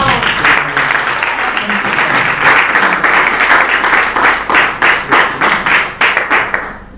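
A crowd applauds steadily for several seconds, a dense wash of many hands clapping that thins into scattered individual claps toward the end.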